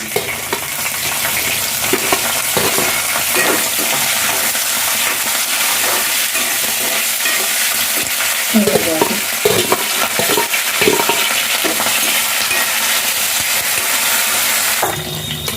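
Green chillies fry loudly in hot oil in a pan, a constant close sizzle with bursts of stirring and scraping partway through, and no voices.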